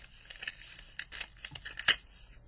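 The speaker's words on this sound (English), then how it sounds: "I'm wondering whether to give it a little trim in here." Scissors trimming a piece of paper card up close, a quick run of small snipping and crisp cutting sounds with one sharper snip near the end, no talking.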